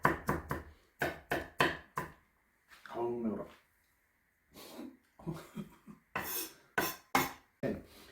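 A knife finely chops onion on a cutting board in quick bursts of sharp, rhythmic taps separated by short pauses. A voice briefly sounds between the rounds of chopping.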